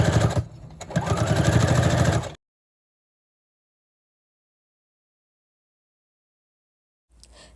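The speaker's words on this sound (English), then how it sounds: "just sewed it all up using a regular straight stitch" A sewing machine runs a straight stitch along a dress bodice in a short, close whirring burst with a brief stutter at the start, then cuts to silence.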